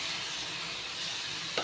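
Soaked chana dal with chilli powder frying in hot oil, a steady close sizzle and hiss with light stirring.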